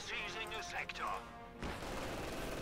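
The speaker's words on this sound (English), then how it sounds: "Pack Howitzer is opening up on the building, however." A pack howitzer in Company of Heroes 2 fires on a building held by grenadiers, a deep sustained rumble of artillery arriving after a stretch of voice-like sound and continuing to the end.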